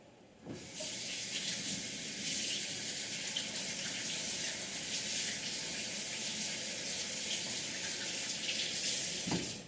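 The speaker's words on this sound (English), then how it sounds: "Let me wash my hands real quick." Steady rush of tap water running into a sink as hands are washed before making Southern buttermilk biscuits, a continuous close hiss lasting throughout with no talk.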